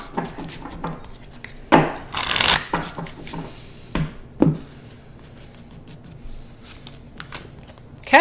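A Marchetti Tarot card deck being shuffled, a few brisk riffling bursts and soft rubbing strokes close up, with quieter gaps between them and no talk.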